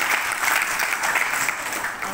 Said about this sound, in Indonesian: Tepuk tangan dulu buat Bu Ana Gracia